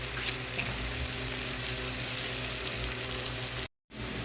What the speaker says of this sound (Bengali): এখানে আরেকটু সরিষার তেল দিয়ে দিব এখন এখানে লবণ দিয়ে দিব লবণ দিলে পেঁয়াজটা তাড়াতাড়ি ভাজা হয়ে যায়